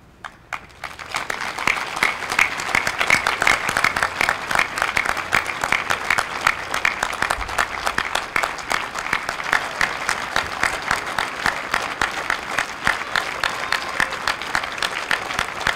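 Sustained applause and cheering from a large outdoor crowd at a New Zealand Defence Force public farewell parade, dense and steady throughout after a brief quieter start, with occasional whistles and shouts mixed in.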